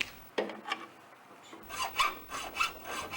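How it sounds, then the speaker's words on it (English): A hand file rasps repeatedly across the cut ends of bolts on a manual paddy rotary weeder, giving a run of short, close scraping strokes in an uneven rhythm. "The ends of the bolts that fix the rotors should be cut off, and the cut surfaces should be smooth with the file"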